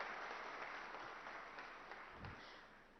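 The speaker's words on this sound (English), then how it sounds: "So a big round of applause for our chief guest." Applause from the audience at the FTCCI Excellence Awards at HICC greeting the chief guest, a steady wash of clapping heard fairly faint and distant, slowly fading.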